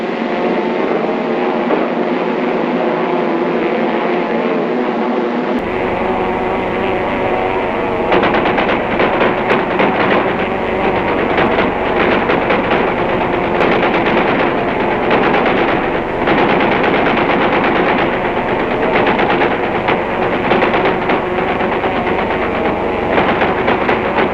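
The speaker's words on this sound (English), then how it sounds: "This is straight beam firing, and is the first step in air-to-air shooting." An aircraft gunner fires a machine gun at a tow target during WWII air-to-air gunnery training, a loud, dense and continuous rattle of rapid bursts over steady engine drone.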